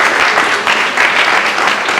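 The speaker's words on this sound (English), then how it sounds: "Give yourself a huge round of applause." Lecture audience breaks into a loud, close round of applause, dense overlapping claps sustained evenly throughout with no talking.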